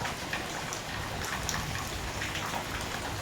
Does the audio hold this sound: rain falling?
yes